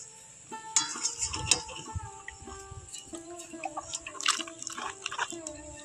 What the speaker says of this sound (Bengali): অনেকটাই জল দিতে হবে এখানে।